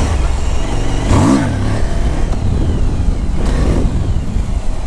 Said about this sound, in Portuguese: Se acelerar duas vezes, mano, a moto já embala demais e tudo.